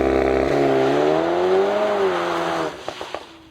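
A VW T-Roc R in race mode launches hard with launch control, its engine howling upward in pitch through a long loud pull, then dropping off with a few sharp pops and crackles as the revs fall.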